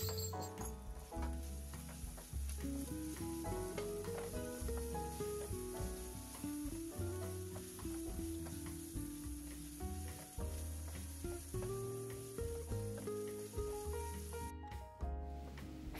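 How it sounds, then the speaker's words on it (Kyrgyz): Chicken meat fries in vegetable oil over medium heat for a funchoza dish, giving a continuous bright sizzle under steady background music. "этибиз даяр болгончо ортоңку отто бир аз кызарта кууруп алабыз."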